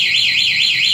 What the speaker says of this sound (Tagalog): Suzuki Nyx Solution One Way Alarm.